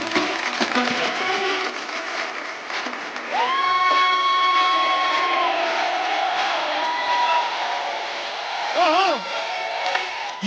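Studio audience on an Indian comedy talk show cheers and applauds loudly and continuously as a rapper is welcomed on stage, with crowd noise filling the scene throughout and music tones rising partway through.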